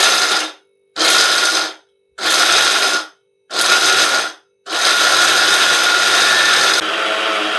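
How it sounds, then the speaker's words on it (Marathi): A kitchen mixer grinder grinds peanuts for chutney in four short, loud bursts separated by pauses, then one longer continuous whirring run, with no voices. "आता हे शेंगदाणे आपण मिक्सरला लावूया"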